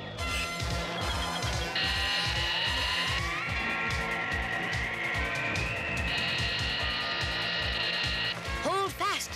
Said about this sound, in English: A hurricane wind will blow you out of here.